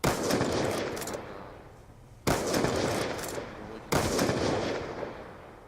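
Three separate bursts of gunfire from a sniper rifle match in Call of Duty Black Ops 2, each a sharp crack followed by a long decaying rumble, at moderate loudness with no talk.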